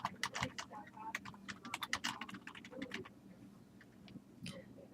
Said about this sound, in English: I'm typing the word logo and hitting enter